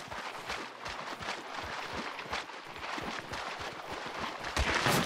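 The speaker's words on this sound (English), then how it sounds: "Shots at us from behind." Gunfire in the video game Hunt: Showdown, a scatter of sharp shots at mid distance coming from behind, crackling steadily through five seconds with a louder burst near the end.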